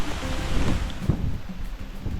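Heavy rainstorm pouring in a forest on the way to Bukal Falls, a steady dense wash of rain with gusty rumble, close and continuous, no voices.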